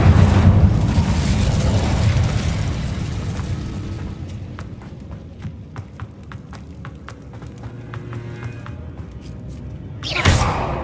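A Bombarda blasting spell explodes in Hogwarts Legacy: a loud deep blast at the start that rumbles and fades over several seconds, scattered small cracks and debris clicks, then a second sharp burst near the end.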